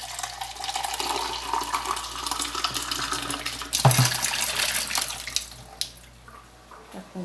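Water pours from a tap into a cooking pot for vegetables, a steady splashing rush with a clunk partway through as the flow shifts, then tapers off.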